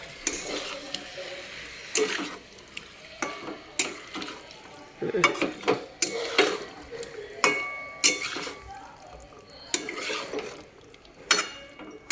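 Paneer pieces are stirred in a pan with a utensil, giving irregular scraping clanks against the metal spaced a second or two apart over a soft background sizzle.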